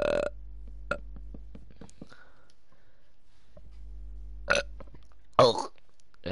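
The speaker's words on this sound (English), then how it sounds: "I burped up Pepsi Max Cherry then" One person burps after drinking Pepsi Max Cherry, a short close burp over a quiet background hum, followed by a faint brief voice sound.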